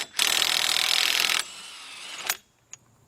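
A half-inch drive impact tool, an Earthquake, spins the front axle nut off a 2007 Ford Focus: a loud sustained buzzing whir for over a second, then a softer rattle and a brief clack as it stops.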